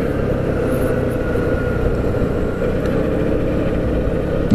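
A scooter engine drones steadily while riding down the Serra Cabeça da Anta road toward Ilha Comprida, near Juquiá, a constant low hum with wind rush and no speech.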